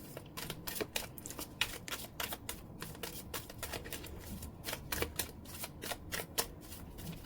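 Tarot cards are shuffled steadily and close up, a long run of quick papery riffles and taps in an irregular rhythm, with no talking.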